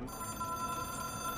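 A telephone rings in the video game Control, a steady electronic tone that fills the short moment alone with no voices over it.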